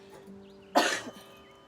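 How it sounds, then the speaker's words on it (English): A single short cough, close and sudden, in an otherwise quiet setting with a faint hum. "Sorry about that coughing."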